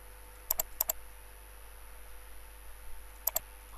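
Computer mouse clicks on a server computer: two quick pairs of sharp, close clicks early on, then another pair near the end, over a quiet electrical hum.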